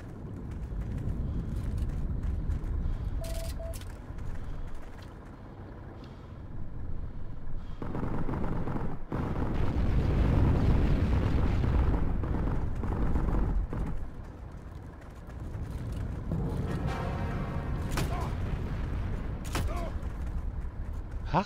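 Booming tank cannon blasts in the video game Heroes & Generals cut through steady engine rumble and battle noise, with a person talking over the action.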